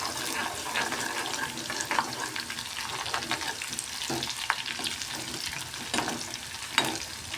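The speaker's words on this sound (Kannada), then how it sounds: "ಜೀರಿಗೆ, ಸಾಸ್ಮೆ ರೀ, ಕೆರಮೇವು ರೀ, ಬೆಳ್ಳುಳ್ಳಿ ರೀ, ಸ್ವಲ್ಪ ಫ್ರೈ ಮಾಡಬೇಕು." Cumin, mustard seeds, curry leaves and garlic frying in two spoons of oil for a bitter gourd palya, making a continuous crackling sizzle with intermittent stirring clinks, close and fairly even.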